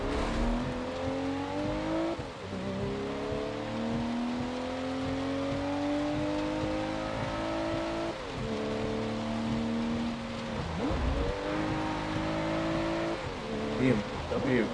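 A Subaru WRX engine climbs repeatedly through the gears in a racing game, rising whines broken by quick shifts, under steady rain-like hiss and with a voice talking over it.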